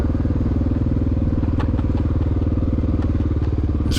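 A stock Honda XR600R adventure bike runs hard during a cross-country race at Russell Creek Motoplex, its close, loud engine throbbing in a steady, unbroken drone with faint clatter and no talk.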